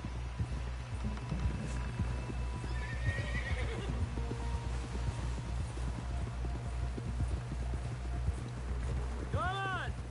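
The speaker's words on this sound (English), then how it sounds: "Someone help John down off this horse." In Red Dead Redemption 2, a horse whinnies near the end over a steady rumbling background, with rapid hoof clip-clops running throughout.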